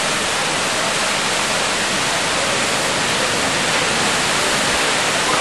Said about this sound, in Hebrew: פשוט מפל אדיר של מים מהמצוקים.